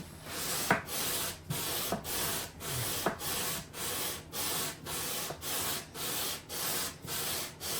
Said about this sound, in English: My sanding pressure is even.